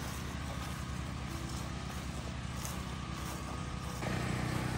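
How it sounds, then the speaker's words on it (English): A portable generator drones continuously outdoors at night in the North Carolina mountains with a steady mechanical hum and a constant wash of noise, unbroken throughout. "Wow, that generator is loud."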